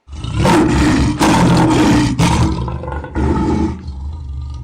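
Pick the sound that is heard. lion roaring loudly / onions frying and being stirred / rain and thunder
lion roaring loudly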